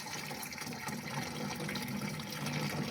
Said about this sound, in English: So you pour the water inside.